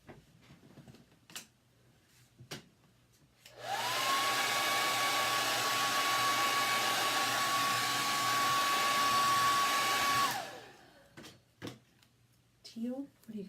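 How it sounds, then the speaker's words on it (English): A blow dryer drying paint on a sign starts up, runs at a steady whirring roar with a high whine for about six seconds, then winds down. Before and after it there are quiet taps and brief voices. "Let me just blow dry this real quick."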